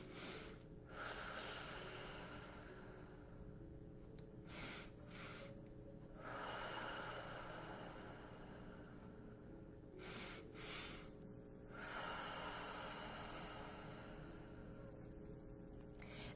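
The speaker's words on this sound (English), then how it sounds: "two breaths in, one breath out" Deep breathing exercise with two breaths in and one out, repeated slow audible inhales and exhales, soft and close, alone without talk.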